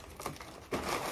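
A plastic bag of snacks from a Kondis supermarket crinkles in two bursts: a short rustle, then a louder, steadier crackle up close, with no talking.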